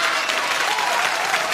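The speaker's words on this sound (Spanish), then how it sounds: "¡Aplauso para Triqui Traca!" A live television audience claps loudly and continuously for the children's entertainer Triki Traka during a Children's Day variety show, a dense, even burst of applause close to the microphone.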